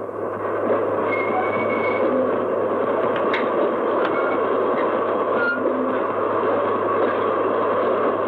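A train at a railway platform in an old Bengali film scene gives a steady, loud rumble and hum with faint clanks and squeals, continuous throughout and without voices.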